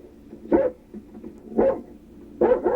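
A police dog barks inside a patrol car, three short, loud barks spaced about a second apart, close and slightly boxy in sound, with faint movement between them.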